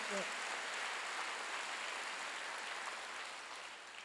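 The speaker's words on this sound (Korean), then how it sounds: "박수로 영광을 드리세요." A church congregation applauds at a Korean Wednesday worship service, a soft, even roar of many hands heard from a distance that fades slightly toward the end.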